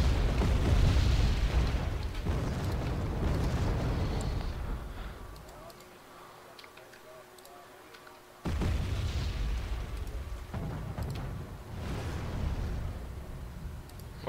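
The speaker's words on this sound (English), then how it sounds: "they called in some artillery" Artillery strikes land in the Wargame: AirLand Battle war game as heavy, rumbling booms, with a long roar, a quiet lull, then another strong blast rolling on in the background.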